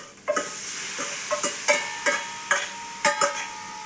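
Tomatoes are dropped into a hot pan for a Kerala-style drumstick theeyal, giving a steady sizzle broken by a series of sharper crackling bursts and stirring scrapes roughly every half second, close and fairly loud, with no talking.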